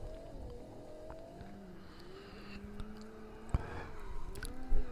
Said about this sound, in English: this is one wonderful car. Just listen to that noise, folks.